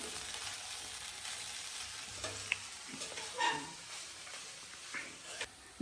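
Masala poha with spices is stirred gently in a pan as it sizzles quietly. There are soft scraping strokes against the pan, and a dog barks faintly in the background.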